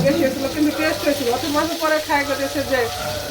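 Large sarpunti fish fry crisp in a pan with a steady, close sizzle that runs throughout, and a voice talks faintly over it.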